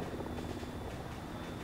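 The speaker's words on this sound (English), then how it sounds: "I can't hear anything over that helicopter." Helicopter flying overhead during a military-style field exercise, a steady, loud rotor and engine roar filling the whole moment with no break or pause.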